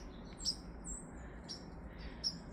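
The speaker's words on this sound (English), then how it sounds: "you can hear a bird over there in those trees just chirping away" A few high, thin bird chirps sound faintly from distant trees over a low outdoor rumble on a cold day.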